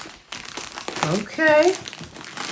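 A parcel of books from World of Books is unwrapped by hand, its packaging crinkling and rustling up close in bursts while someone speaks over it.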